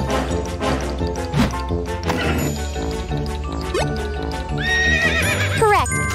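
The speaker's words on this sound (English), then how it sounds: "Correct, horses neigh." A cartoon horse in a children's song whinnies loudly near the end, a rising then falling neigh over bouncy music with jingling accents.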